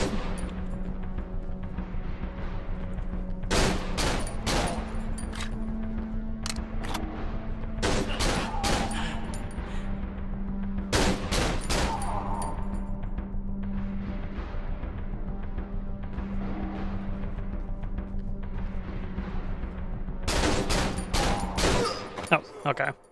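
Pistol and shotgun fire in the horror game Cry of Fear, sharp loud shots in irregular bursts over a low steady ambient hum, with a voice talking between the shots.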